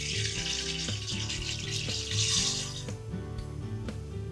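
Basmati rice poured into a pot of salted water, a running splashing and pattering wash of water over background music with regular beats, fairly close and steady, no talking.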